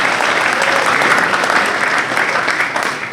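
Banquet crowd at a football awards dinner claps in a loud, sustained round of applause, close and dense, tapering slightly toward the end.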